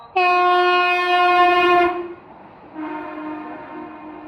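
A Vande Bharat Shirdi express train sounds its loud, sustained two-tone horn, a long blast then a shorter second one, close by and with no talk.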